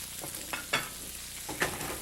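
Snow peas and pepper flakes are stir-fried in a hot pan: a few quick scraping stir strokes over a soft sizzle.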